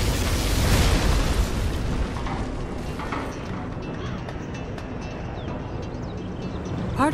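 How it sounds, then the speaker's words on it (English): A particle cannon blast in the video game C&C Generals Zero Hour opens with a heavy, booming roar that rumbles on and slowly thins over several seconds, ending with a few faint chirping tones. "Particle cannon activated."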